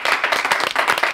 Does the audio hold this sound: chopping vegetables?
no